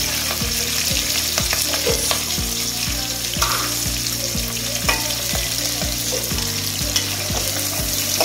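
Onions sizzle and crackle steadily in a hot pan, a constant frying hiss with occasional stirring, while soft music plays underneath.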